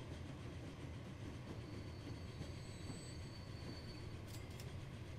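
A train rolling along the rails in the Transport Fever simulation game, a steady continuous rumble with faint wheel squeal and a few brief high clicks near the end, no talk.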